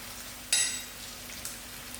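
Onions fry in a pan with a soft continuous sizzle and a brief louder crackle partway through, close and fairly quiet, with no talking.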